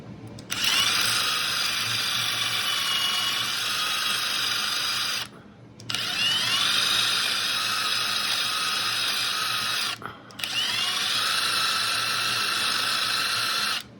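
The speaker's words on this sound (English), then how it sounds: "What I always like to do too is just take a wire wheel" A wire wheel spins on a power drill in three long runs separated by short pauses, a steady high-pitched whirring that is close and loud.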